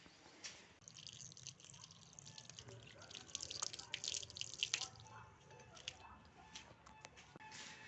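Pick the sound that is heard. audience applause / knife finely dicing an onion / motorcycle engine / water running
water running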